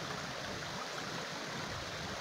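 A river swollen after heavy rain flows past, a steady, even rushing wash of water heard faintly at a distance with no voices over it.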